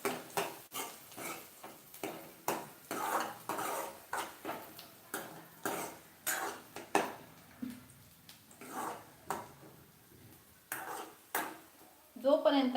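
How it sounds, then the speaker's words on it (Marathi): Onion and cumin are sautéed in a pan, heard as soft, regular stirring strokes, a spatula scraping and tapping the pan about twice a second in a steady rhythm, fairly faint throughout. "आता यामध्ये कांदा परततोय"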